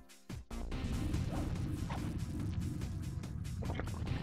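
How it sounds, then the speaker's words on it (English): Cane smashing through gears in the Sly Cooper and the Thievius Raccoonus PS2 game, a dense, loud wall of crashing and whooshing game effects running continuously with no pause after a short opening burst. "Smash through those gears with your cane."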